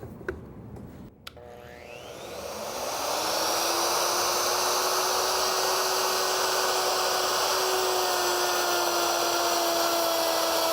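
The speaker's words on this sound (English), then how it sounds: "I'm ready to route this rabbet" A router cuts a rabbet in wood: after a click the motor spins up to a steady high whine that holds through the cut, close and clear with no speech.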